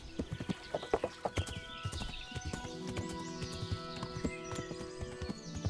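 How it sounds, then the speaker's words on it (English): Hooves of a horse ridden in the video game Kingdom Come: Deliverance, a brisk, rhythmic clip-clop close by over faint tonal game ambience, with no one speaking. "I'm sure horses go much faster, but I feel like this one is pretty quick."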